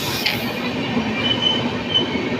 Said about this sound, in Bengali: এই যে আমাদের ট্রেন চলে গেল